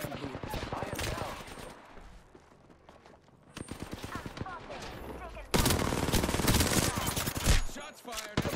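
Rapid bursts of automatic gunfire rattle through a video game match, with dense rattling volleys that ease off briefly and then return louder and heavier toward the end.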